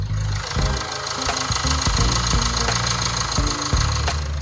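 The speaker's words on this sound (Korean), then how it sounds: "엔진룸 개폐했습니다 엔진음 들어보시죠" A small used imported SUV's engine idles loudly and steadily up close with the hood open, with a rhythmic ticking and knocking rattle running through the hum.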